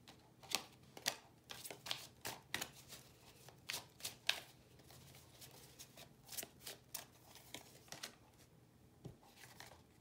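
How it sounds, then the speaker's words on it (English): Tarot cards being shuffled and drawn, a soft riffling and flicking that comes in irregular bursts, close but faint, with no speech. "I'm going to pull another card on that."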